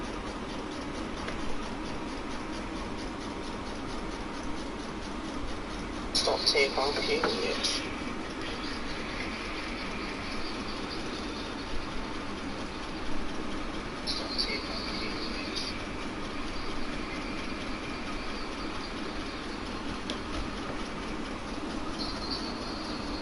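A train in a railway simulator game on PS4 runs toward Maidenhead with a steady, continuous rumble and hiss. Faint squeals rise now and then, and the whole thing stays even and unbroken.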